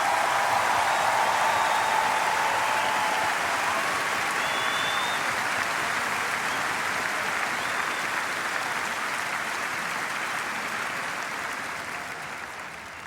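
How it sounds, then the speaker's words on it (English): A large concert audience greets a young singer with sustained applause, dense clapping and a few whistles rolling on for over twelve seconds before gradually tapering, with no talk over it. "Give her an enormous applause."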